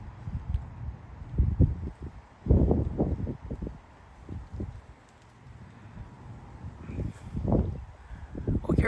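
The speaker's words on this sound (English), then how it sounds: "Oh, here comes the wind." Strong wind gusts sweep through trees in Frisco, Texas, rising and falling in repeated surges of rustling leaves and microphone buffeting, loud and close, with scattered speech and other sounds at times.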